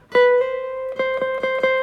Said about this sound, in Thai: ลองสไลด์ไปช่องที่ 13 ดูนะ